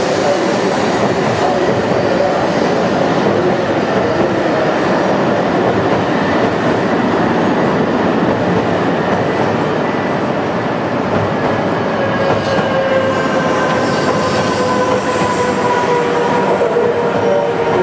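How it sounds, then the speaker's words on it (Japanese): A Shinkansen E2/E3 series train pulls into the platform, a steady loud rumble of wheels and rail noise with rising whine tones, continuous throughout without speech. "20番線列車が到着をしております。"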